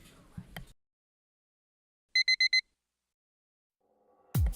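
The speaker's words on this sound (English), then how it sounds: "The sound of the alarm clock, which I haven't heard since entering university, fills my ears." An alarm clock in a visual novel video game rings out as four quick, evenly spaced electronic beeps in near silence, with brief unrelated sounds before and after.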